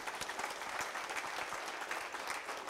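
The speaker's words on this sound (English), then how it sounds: "Give the Lord a hand clap this morning." Church congregation clapping hands together during a Sunday service, a steady broadband patter of many hands sustained evenly throughout.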